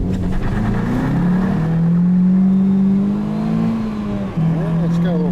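A 2019 Chevy Impala LT with the 2.5L engine pulls away from a stop, its engine note climbing steadily as it accelerates, loud and close, before easing off and rising again.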